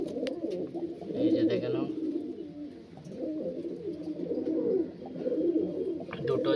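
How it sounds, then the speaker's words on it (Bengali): Pigeons of the Andhra and Arsad line kalaka breed, including a hen, coo in a loft in Dankuni, Hooghly, a steady low burbling close by while someone talks over them. "এই যে এখানে একটা মাদি পায়রা, আর উপরে তিনটা আছে"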